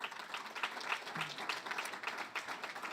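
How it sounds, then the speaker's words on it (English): A crowd claps at a Judson University alumni awards ceremony honoring the awardees, a soft, even patter of many hands that continues steadily throughout. "And so give them a big round of applause"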